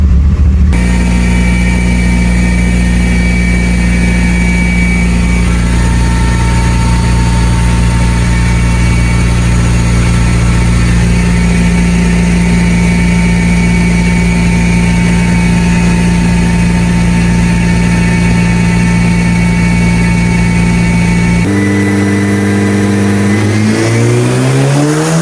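A Mitsubishi Lancer Evolution VIII engine fitted with S3 cams runs loud and steady at a held rev for about twenty seconds, then drops and climbs again near the end, with a strong low drone and no talk.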